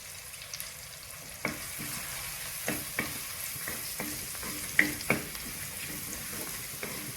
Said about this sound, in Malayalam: ഇതെല്ലാം കൂടെ നന്നായിട്ട് ഒന്ന് മൂത്ത് വരണം ആ ചുവന്നുള്ളിലൊക്കെ ഒന്ന് നന്നായിട്ട് വഴന്നു വന്നിട്ട് വേണം